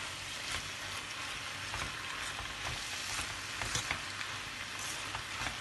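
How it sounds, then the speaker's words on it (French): Beaten eggs hitting a hot pan while cooking rice with chicken and vegetables, giving a steady, fairly quiet sizzle and crackle with faint stirring. No voices. "Je vais vite verser mes œufs là"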